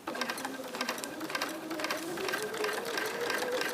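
A sewing machine stitches steadily along a straight line while quilting a block, its rapid needle clatter close and continuous for the whole stretch, with no talking.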